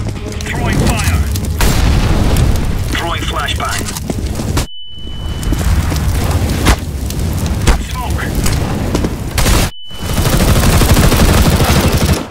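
Counter-Strike: Global Offensive match with loud, dense gunfire and booming blasts, interrupted twice by brief near-silent gaps, each followed by a thin steady high ringing tone like a flashbang's deafening effect; voices talk over the action.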